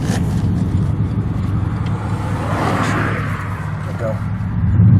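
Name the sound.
2006 Chevy Impala SS car driving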